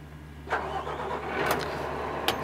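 An STC 500 truck crane engine is self-started: a quiet starter crank bursts into a few sharp ignition catches over a low steady hum, brief and fairly faint.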